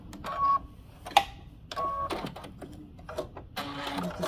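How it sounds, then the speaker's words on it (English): A sewing machine stitching down a fabric seam, its motor whirring in short, uneven bursts of rapid mechanical clatter with brief pauses between runs, fairly quiet and close. "We're going to continue this stitch down the seam, which makes it easier for turning"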